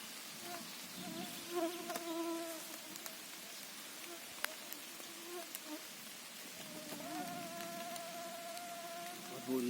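Many mosquitoes whine close by at a chanterelle-picking spot in Rivne region, Ukraine, in thin, wavering buzzes that rise and fade, over a soft steady background hiss.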